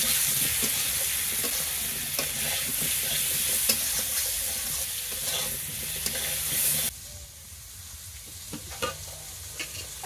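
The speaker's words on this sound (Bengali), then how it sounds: "আলুতে দিয়ে দিচ্ছি একটু নুন, একটু হলুদ গুঁড়ো দিয়ে ভালো করে ভেজে নেব" Cubed potatoes seasoned with salt and turmeric fry and sizzle steadily in a pan over the stove, a dense continuous crackle with occasional stirring scrapes, close and loud, dropping in level partway through.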